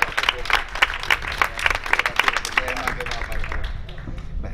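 Lively audience applause and clapping at an evening community event, welcoming the association's president, with voices mixed into the clapping before it thins out toward the end.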